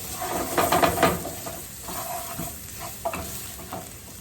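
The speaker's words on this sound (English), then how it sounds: "Now I'm gonna mix it all together." A breakfast mixture of seasoned food is stirred in a hot pan, a spoon scraping and mixing in short bursts over a soft steady sizzle, close and moderately loud.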